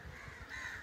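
A single crow caw, short and moderately near, set against outdoor background in a palm grove during a hot day.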